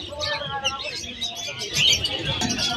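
Cockatiels, including a wild type bird, chirp and whistle in quick bursts at a busy pet market in Malabon, with people talking over them.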